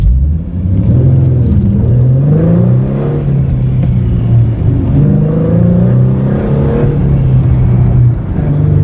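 A 2012 Ford Mustang with a 3.7L V6 pulls away from a green light, the engine note rising steadily through the revs in a loud, continuous cabin drone with no talking.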